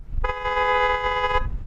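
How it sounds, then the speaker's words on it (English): A single car horn blares in one sustained honk lasting just over a second, loud and near, with faint rumble around it. "Now I'm going to honk mine."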